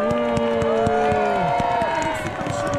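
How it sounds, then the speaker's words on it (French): Crowd at an evening sports gathering clapping and cheering steadily, with voices and a loud hum running through it. "On les applaudit très fort."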